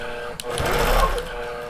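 A computerized quilting machine stitching a large pantograph runs with a steady, loud mechanical hum and rapid needle chatter, close and continuous, with no talking over it.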